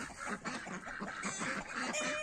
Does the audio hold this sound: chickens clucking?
yes